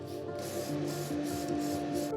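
A steady hiss of aerosol spray paint in short bursts, with brief pauses between sprays, close and fairly loud.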